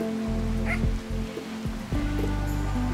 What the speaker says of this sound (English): we only have like a little snippy dog